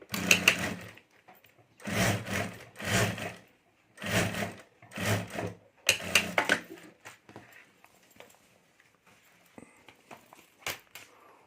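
A sewing machine stitches along the top edge of a homemade clutch bag lining, running in several loud bursts of a few seconds each with short pauses between, then dropping to faint handling clicks and rustles.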